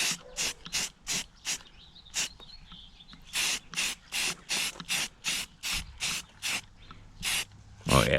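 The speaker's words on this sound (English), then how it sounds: "Probably gonna try to mist a little paint on them too" Spray paint can misting paint onto old Lincoln Town Car interior parts such as the package shelf, heard as a quick series of short hissing bursts at a steady rhythm, fairly close.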